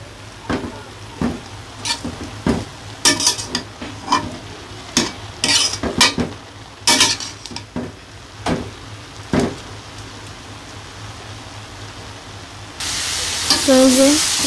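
Saag, leafy greens with onion, garlic, green chilli and salt, stirred in a pan over a village cooking fire: repeated sharp scraping strokes in an uneven rhythm over a low sizzle, then a louder, steadier hiss toward the end.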